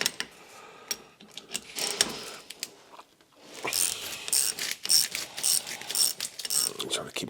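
A hand ratchet loosens the brake caliper bolts on a GT4 Celica, a close run of quick clicking strokes in uneven bursts with short pauses between them and no speech.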